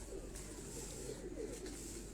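Soft cooing from an old pigeon among a flock kept by a Lahore pigeon fancier, faint and intermittent against a quiet background.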